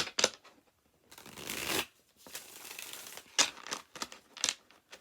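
Tarot cards are shuffled in several quick riffles and bursts, with crisp papery flutters separated by brief quiet gaps, close and soft.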